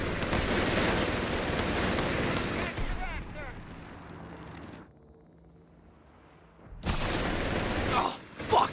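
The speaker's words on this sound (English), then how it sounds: "Take a suppressant fire!" Suppressing gunfire and battle noise from the World War II strategy game Company of Heroes 3, loud and dense with a near-silent lull midway before the fire resumes; voices are heard over it.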